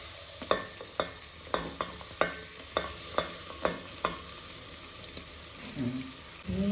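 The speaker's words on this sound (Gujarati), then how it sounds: "હવે તેમાં આપણે ઝીણી સમારેલી ડુંગળી એટલે કે કાંદા ઉમેરી દઈશું" Chopped onion frying in butter and oil in a pan, with a run of sharp scraping stirs at a steady beat over a soft sizzle, ending in a few clattering knocks.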